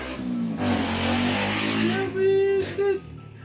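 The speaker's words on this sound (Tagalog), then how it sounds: "Ingay na dumaan na motor." A noisy motorcycle roars past nearby, its engine revving with a rising and falling whine and a loud broadband rush that swells and fades over a few seconds, mixed with voices.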